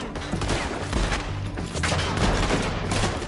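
A volley of gunshots in a western video game shootout, many overlapping cracks forming a dense, continuous fusillade with no talk.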